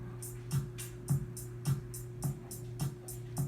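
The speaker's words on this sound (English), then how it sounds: "This is called a 4 on the floor beat." A four-on-the-floor drum pattern programmed in Soundtrap, with a steady kick on every beat and crisp hi-hat hits between, looping evenly at a moderate tempo and playing alone.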